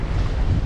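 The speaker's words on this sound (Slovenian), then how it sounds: "Piha pa tam blizu 20 vozlov" Strong wind of nearly 20 knots buffeting a microphone aboard a sailboat at sea off Sardinia, a loud, dense, continuous roar with low rumbling gusts and no voices.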